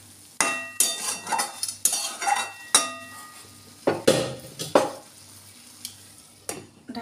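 A spatula scrapes and clanks against a pan as salt is mixed into sliced ridge gourd, with a steady series of sharp knocks and scrapes over about seven seconds under a faint sizzle.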